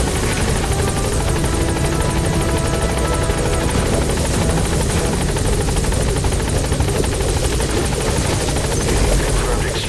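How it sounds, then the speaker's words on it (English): In the video game Metal Gear Solid V, a helicopter arrives for an extraction, its loud, steady rotor thump and engine roar filling every moment at close range. "Get him out by chopper."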